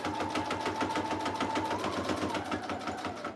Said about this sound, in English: Glue on the second wallpaper, or sorry, the second vellum pocket, and I'm sewing it on the inside